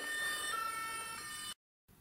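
A toy ambulance's electronic siren wails loud and close in a Playmobil children's hospital scene, a continuous tinny two-tone tone for about a second and a half before cutting off abruptly to silence.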